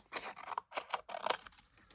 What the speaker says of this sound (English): I can cut that top bit off.